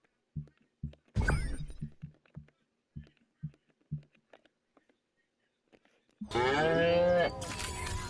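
Cows moo in the video game Destroy All Humans Remastered. One short moo comes early and a longer, louder moo near the end, with soft dull thumps and footsteps scattered through the quiet between them.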